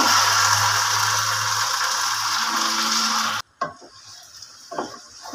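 Marinated chicken for chicken biryani hits hot oil in a pot with a loud, steady sizzle, then the sound cuts off and gives way to softer stirring and scraping.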